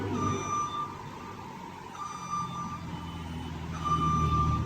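A brand new chopper machine beeps while winding down with its engine off, three long evenly spaced electronic tones sounding over a low rumble of the slowing machinery, no voices.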